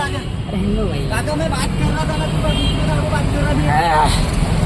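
An auto rickshaw rides along with a constant engine drone and road rumble, while people talk loudly over it throughout.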